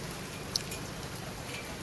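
Heavy monsoon rain falls at 4 a.m. during a motorbike ride, a faint, even hiss of steady downpour with one small tap standing out.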